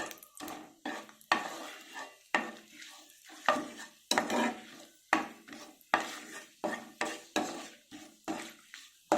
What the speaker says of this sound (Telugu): చెక్క, లవంగ, యాలక్కి, బిర్యానీ ఆకు, అనాస పువ్వు. ఇవి ఫ్రై అవ్వాలి.